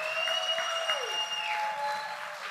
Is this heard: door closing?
no